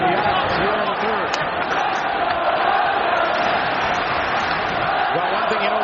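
Loud, continuous roar of an ice hockey crowd at Nassau Coliseum during a 2002 Eastern Conference playoff game between the Maple Leafs and Islanders, cheering steadily throughout with scattered whistles and yells.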